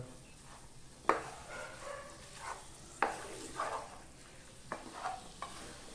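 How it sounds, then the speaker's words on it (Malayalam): Chicken pieces coated in masala are stirred in a pan for a coconut chicken curry, with a quiet sizzle and several sharp spoon knocks against the pan, close but soft. "നമ്മൾ മസാലയും ചിക്കനും കൂടിയിട്ട് നന്നായിട്ട് ഇളക്കുക"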